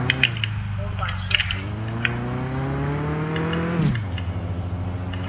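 An old, worn BMW engine revs up with a rising engine tone, then drops sharply as a gear changes, heard from inside the car with light clicks and rattles over the steady drone.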